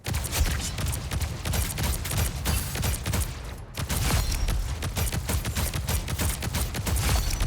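Rapid gunfire in Marvel Rivals, dense bursts of shots repeating almost continuously with a brief pause midway, loud and close with no talking.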